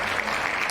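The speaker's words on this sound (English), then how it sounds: "Yo, hand claps." Short burst of hand claps, dense and steady like applause, filling the moment without a pause and with no voices over it.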